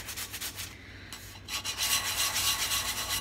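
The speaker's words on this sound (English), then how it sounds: "I've got this one pretty much sanded all the way down" Sandpaper rubbing over an epoxy cup with a wood grain finish, a close, raspy scratching that comes in short repeated strokes, briefly pauses, then grows louder and more continuous, with no speech.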